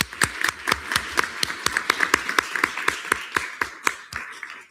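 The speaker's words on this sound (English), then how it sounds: "Let's give Senator Green a round of applause" A student government senate meeting audience applauds a departing senator with a fairly small group clapping, the sharp, distinct claps coming in a quick, uneven rhythm for about four seconds before tapering off.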